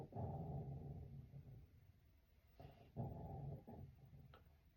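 A sleeping dog gives low, rumbling growls broken by brief whimpering yips, in a few bursts with short pauses, close and fairly quiet, with no talking over it.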